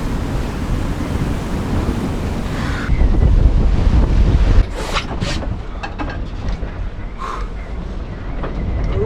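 Heavy ocean waves on a North Atlantic sailing crossing roar and slosh continuously with strong wind buffeting the microphone, a louder surge of rushing water midway, and sporadic splashes and creaks.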